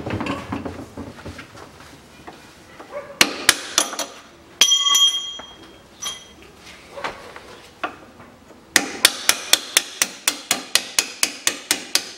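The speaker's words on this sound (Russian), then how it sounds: "теперь выбиваем вот этот нижний болт" The lower bolt of a rear trailing arm on a 2005 Chevrolet Niva 4x4 is driven out with a hammer: sharp metallic strikes ring out, scattered at first, then a fast, steady run of close, loud blows.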